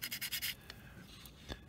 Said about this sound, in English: I use the smoother one, and then just go over it again to smooth out some of the scratches